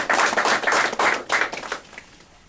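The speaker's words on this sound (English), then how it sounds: "Give him a big round of applause." A Toastmasters club audience gives a speaker a short burst of close, brisk hand-clapping that swells in uneven waves and dies away within about two seconds, with no talking.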